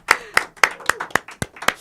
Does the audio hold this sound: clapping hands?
yes